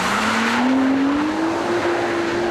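An Audi RS4 car engine pulls steadily while driving, a loud, continuous tone climbing gradually in pitch as it accelerates, with road and wind noise around it and no talking.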